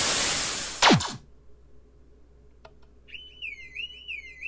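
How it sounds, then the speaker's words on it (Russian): Railway level crossing alarm in Minecraft with the Immersive Railroading mod. A warbling, rising-and-falling electronic tone starts partway through and keeps sounding steadily, after an earlier burst of noise and a couple of brief clicks. "Сигнализация, шлагбаум."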